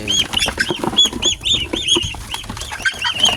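Busy quacking and squawking from a group of domestic ducks close by on a duck farm while being bathed, overlapping calls in quick succession with no talking.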